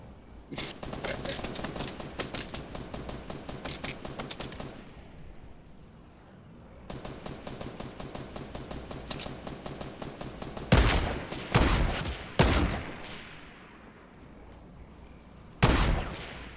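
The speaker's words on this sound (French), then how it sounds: "je crois qu'il tire dans des bushs" Rapid bursts of automatic gunfire in the game Fortnite during a tournament match, long stuttering volleys followed by several sharp, loud single shots, close and dominant.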